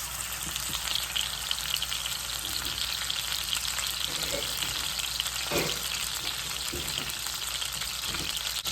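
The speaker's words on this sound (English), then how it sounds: "to sear the pork tenderloins, I'm gonna put in a little bit of oil and we're gonna lay these in here" Pork tenderloins sear in a little oil in a hot pan, giving a steady, close, continuous sizzle and crackle with a few louder spits and pops, no talk over it.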